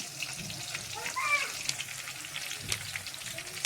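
Green chillies roast in a hot pan for puffed rice chivda, giving a soft crackling sizzle with light stirring, close but faint, with a voice speaking briefly over it.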